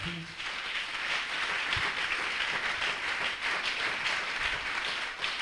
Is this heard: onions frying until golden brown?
no